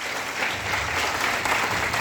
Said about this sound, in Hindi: एक बार जोरदार तालियां खुद के लिए।